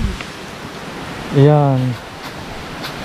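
Water rushing at Malagaslas spring in Laurel, Batangas, a steady, loud hiss of flowing water throughout, with a brief spoken word in the middle.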